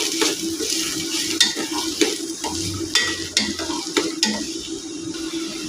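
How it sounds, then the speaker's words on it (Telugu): Chopped onions frying in oil in a pan for a drumstick and tomato curry, with a steady sizzle and repeated sharp scrapes and clinks of a spoon stirring against the pan, close and clear with no talking. "ఉల్లిపాయలు పచ్చివాసన పోయేదాకా వేసుకోవాలి"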